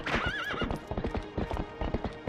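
A horse in Zelda: Twilight Princess HD gallops with rapid, close clip-clop hoofbeats, opening with a wavering neigh over the steady rhythmic pounding.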